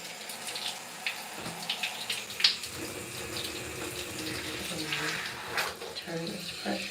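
Water runs steadily from a tap during a curly hair wash, a soft continuous splashing stream with small bumps and clatters, fairly quiet and close.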